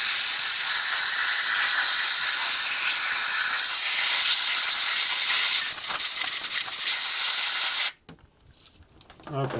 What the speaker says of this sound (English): what we can use is a little compressed air in here just to blow out the loose stuff